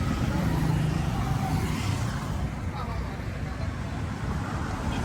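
Busy road traffic in Tamale, Ghana, a steady dense rumble of cars and other vehicles heard up close and continuously from inside the flow, with voices talking over it.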